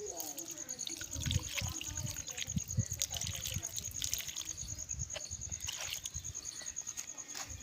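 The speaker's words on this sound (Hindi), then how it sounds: "अब हमने इन दोनों को पानी लगा दिया है।" Water trickles and splashes steadily onto soil in pots, a continuous close pour with faint voices murmuring in the background.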